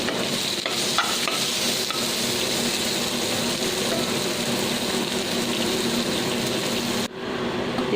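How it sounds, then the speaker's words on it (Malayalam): Sliced onion sautéing in leftover coconut oil in a pan for a black chicken curry, giving a steady close sizzle and stir throughout, cutting off abruptly near the end. "ബാക്കി വന്നിട്ടുള്ള ഈ വെളിച്ചെണ്ണ അതിലേക്ക് തന്നെ ഒരു ചെറിയ സബോള നീളത്തിൽ മുറിച്ചത് അതിനെ ഒന്ന് വാട്ടിയെടുക്കണം"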